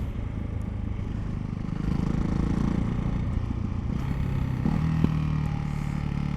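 A Ducati Hypermotard 698 Mono single-cylinder motorcycle fitted with an Akrapovic exhaust drones steadily nearby, its engine note thickening slightly partway through over rushing outdoor noise.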